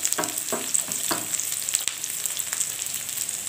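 Spices sautéing in a pan for Lamongan-style chicken soto, a steady sizzle with a few stirring scrapes early on, close and fairly loud, no voices.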